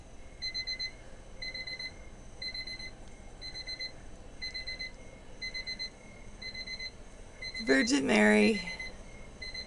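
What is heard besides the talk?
timer alarm going off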